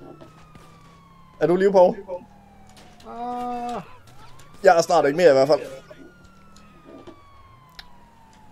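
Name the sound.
police car siren in video game GTA 5 Online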